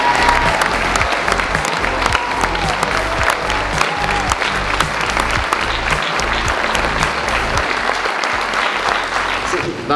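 An audience at a high school graduation ceremony claps loudly and steadily for about ten seconds, a dense sustained round of applause that fills the hall.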